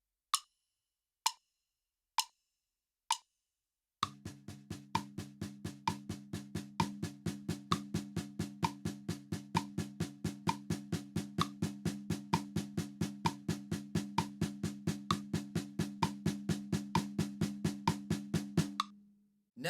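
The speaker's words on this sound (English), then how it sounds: "The second groove of this song is only between the bass drum and the snare drum." Snare drum plays steady alternating single-stroke 16th notes with bass drum in a song's groove, opening with four spaced hits before a long even run of rapid strokes over a low sustained tone, fairly quiet.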